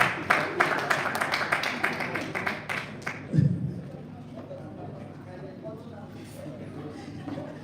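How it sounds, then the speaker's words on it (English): Scattered hand claps from a small audience at a memorial anniversary quiz competition, a quick patter of claps over the first few seconds that fades into murmur and room noise. "Let's give her a round of applause"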